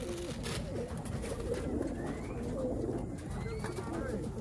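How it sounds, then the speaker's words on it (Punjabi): Pigeons cooing inside a racing-pigeon loft, a dense, continuous murmur of low cooing from many birds close by, steady throughout with faint background voices. "ਇਹ ਇਨਕੇ ਲਾਫਟ ਪੇ ਕਬੂਤਰ ਮੌਜੂਦ ਹੈ"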